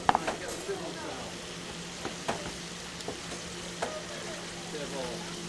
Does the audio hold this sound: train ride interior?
no